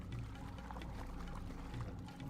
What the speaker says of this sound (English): The valve triggers a rush of water through the pipes